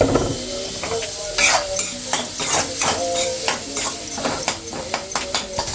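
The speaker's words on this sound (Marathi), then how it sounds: "एक चमचा आलं लसणाची पेस्ट चांगलं ढवळून घ्यायचं" Ginger garlic paste is stirred in a frying pan while making vada pav, with repeated spoon scrapes and clinks over a steady sizzle, close up.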